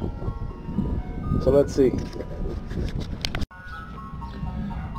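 An ice cream truck's jingle plays briefly as a few melodic tones over steady outdoor noise, with someone talking nearby.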